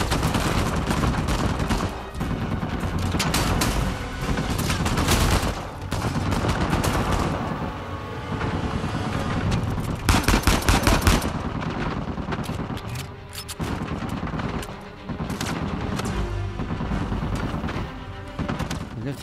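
Shooting at tires during a chase in Uncharted 4: A Thief's End, heard as dense, sustained bursts of gunfire and heavy impacts with a few brief pauses, loud and continuous under a busy game soundscape.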